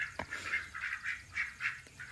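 Ducks quacking steadily in a quick repeated rhythm, several calls overlapping at moderate volume, with faint outdoor noise and no talking.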